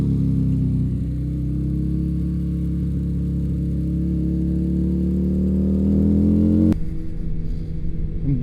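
A Suzuki Hayabusa and a Harley V-Rod motorcycle engine drones steadily with a low harmonic hum, rising gradually in pitch and loudness as it accelerates, then cuts sharply to a rushing, windy sound.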